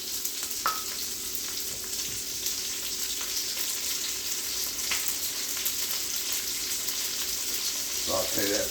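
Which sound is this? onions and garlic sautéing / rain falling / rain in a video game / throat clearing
onions and garlic sautéing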